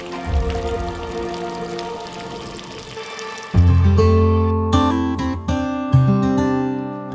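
Heavy rain pours in a steady, dense wash during a Hindi drama film scene, prominent for the first few seconds before a swell of music rises over it.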